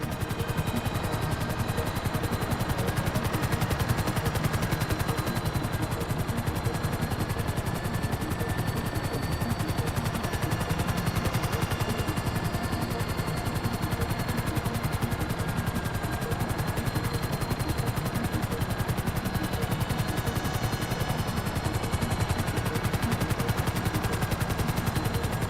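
Sustained gunfire from the video game GTA V, with dense bursts crackling over a constant rumble that may include a helicopter, loud and unbroken throughout.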